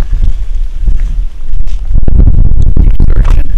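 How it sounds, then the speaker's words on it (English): Strong cold wind beside a river buffets the microphone in loud, gusty low roars that intensify in the second half, with no talking. "it's blowing, it's windy, and it's cold."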